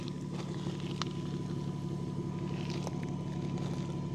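A BMW 440i xDrive Gran Coupe engine, exhaust valve open in Sport Plus mode, rumbles at a low steady idle at a distance, with faint wind noise and no voices.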